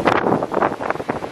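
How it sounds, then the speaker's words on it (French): Strong cyclone wind, back after the eye passed with no rain yet, roars and gusts in uneven surges, buffeting loudly and close. "on a le vent qui est revenu"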